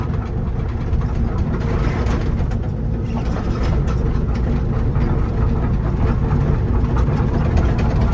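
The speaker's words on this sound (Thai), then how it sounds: "นี่เร่งเครื่องทำไมมันหย่อนนะวะ รอบเครื่อง" A rice combine harvester engine runs at high revs with a loud, heavy, continuous drone and rumble. The engine holds under load without clear rises and has no speech over it.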